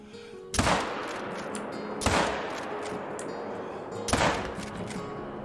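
Three loud rifle gunshots in the hunting video game theHunter: Call of the Wild, evenly spaced about two seconds apart, each a sharp crack trailing into a long echoing decay outdoors.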